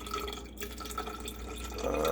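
Apple cider vinegar poured into a pan for brisket, a short soft trickle of liquid that builds slightly louder toward the end.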